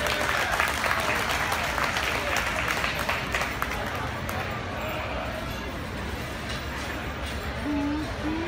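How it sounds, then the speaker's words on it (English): Audience at a sheep contest at the Arizona State Fair clapping for the kids showing sheep, a steady broad patter of applause from a crowd, moderately loud and sustained, with a voice briefly heard near the end. "Let's give those kids a really big round of applause."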